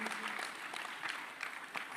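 Audience clapping at a large film event fills the hall in a steady, moderately faint wash with scattered sharper claps throughout.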